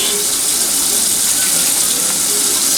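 Tap water runs steadily into a cooking pan in a home kitchen, a loud, close, continuous gushing splash with no pauses.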